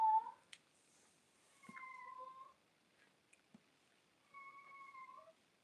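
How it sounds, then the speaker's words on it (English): An indoor cat meows and cries restlessly around a house, giving a sharp short call followed by two longer drawn-out wails separated by quiet pauses, with a few faint knocks in between. "My cat, you hear the cat? He going crazy, man."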